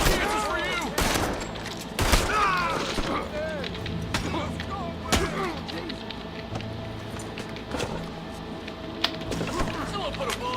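Gunfire in Red Dead Redemption 2 cracks out in sharp, scattered bursts of shots, several loud reports spread through the stretch, mixed with shouting voices and action noise.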